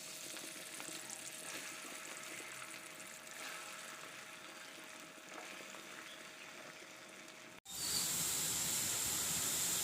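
Potato pieces dropped into hot oil for Jaffna-style bread kottu, giving a steady close sizzle of deep frying that breaks off briefly, then returns louder and brighter as the potatoes hit the oil.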